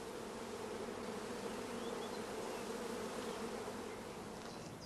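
A shook swarm of honeybees hums inside a closed hive body. The dense, even buzz holds at a moderate level throughout, with no voices.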